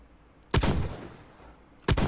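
Two sharp, loud gunshots from a Benelli shotgun in the military shooter game BRM5, spaced about a second and a half apart over quiet background noise.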